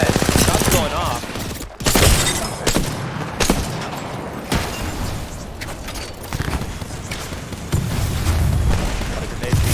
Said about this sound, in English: A lot of grenades being thrown.